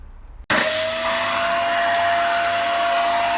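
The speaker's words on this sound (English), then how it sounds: "I bought a vacuum cleaner from Aldi." An Aldi vacuum cleaner switches on abruptly after a brief quiet moment and runs loud and steady with a high-pitched whine.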